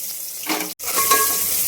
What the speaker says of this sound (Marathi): कांदा चांगला लालसर होसर भाजायचा आहे बघा